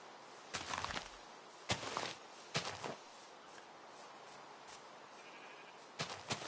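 Several sheep bleats in a Minecraft video game sound in short separate bursts, a couple of seconds apart, over a faint quiet background.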